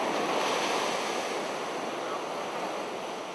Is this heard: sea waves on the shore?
yes